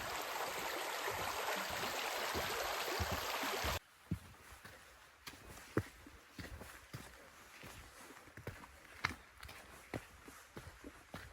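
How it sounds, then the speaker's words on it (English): A mountain stream on the trail up Mount Marcy in New York rushes steadily for several seconds, then drops away to quieter surroundings where close footsteps crunch and shuffle in an uneven rhythm. "Love the sound of the water rushing by."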